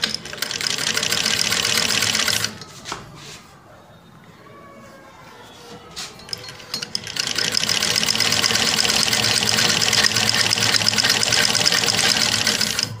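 Household sewing machine, one with a fault in picking up the lower thread, stitching fabric: two bursts of close, rapid, even mechanical whirring separated by a quieter pause.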